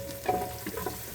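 Garlic, onion, ginger and chili sizzle and crackle in hot oil in a pan for beef pares, a close, steady frying hiss with small pops and stirring, and no voices.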